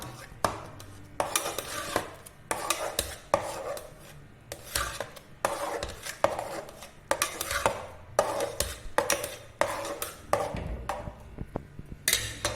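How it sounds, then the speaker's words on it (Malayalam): Cooked rice, fresh from a pressure cooker after four whistles, mashed firmly in a pot with a metal utensil: repeated scraping, rasping strokes in a steady rhythm, close and fairly loud, with occasional clinks against the pot. "ഇത് നല്ലോണം ഉടയ്ക്കണം"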